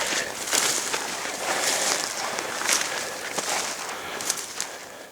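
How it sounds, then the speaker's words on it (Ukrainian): Small birds chirp and call from a flooded forest swamp, short bright high notes scattered over a steady hiss of wind and water, with a soft shuffle of movement nearby. "Ось в болоті хтось співає. Це або пташка пташки якісь."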